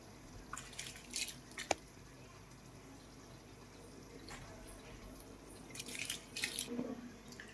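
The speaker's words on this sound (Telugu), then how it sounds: "ఇప్పుడు ఈ వాటర్లోకి మనం రైస్ యాడ్ చేసాం కదండి" Raw rice tipped into a pot of heated water while cooking chicken dum biryani, giving two clusters of soft splashing and wet patter close by, one early and one near the end, over a low kitchen hum.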